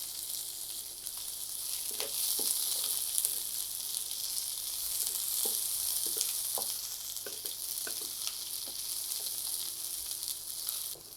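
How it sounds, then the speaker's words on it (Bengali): Garlic cloves and chopped onion frying in oil in a pan, a steady bright sizzle with occasional stirring scrapes and pops, close and continuous with no talking. "রসুন আর পেঁয়াজটাকে ভেজে নিয়েছি"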